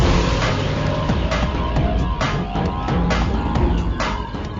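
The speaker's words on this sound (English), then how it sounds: "This short stroke engine just builds speed like that." A TVS Apache RTR FI motorcycle with a short-stroke fuel-injected engine accelerates hard, its steady loud drone carried along with buffeting wind noise and occasional sharp transients, no talk over it.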